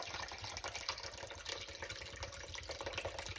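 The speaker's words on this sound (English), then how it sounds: "Gonna pour it right in there." Soda pours over ribs in a crockpot, a steady, soft liquid splash and gurgle with faint dripping, continuous and fairly quiet throughout.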